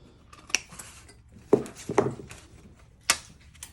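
Hand snips trim a small leftover piece of Pittsburgh seam from sheet metal while fabricating an HVAC return air pan, giving four sharp, close metallic snips and clinks spaced irregularly over near silence, with no talking.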